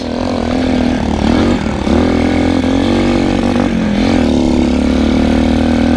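A motorcycle engine drones loud and close throughout, its pitch rising and dipping as the bike is ridden over rough ground.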